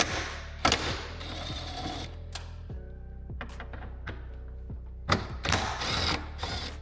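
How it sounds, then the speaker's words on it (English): Bolts being removed from the hood of a Traxxas TRX RC truck: scattered ratcheting clicks and small metallic taps with a few louder clunks, close and fairly faint, no talking. "we're gonna rip these 2 bolts out and try to get all these pins out"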